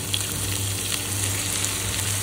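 Onion, garlic and green chili fry with a pinch of turmeric in a pan, giving a steady, dense, close sizzle that holds evenly throughout with no talking.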